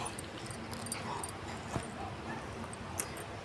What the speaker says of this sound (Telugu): రోజు ఒక 100 కుక్కలకి పెడుతున్నామండి.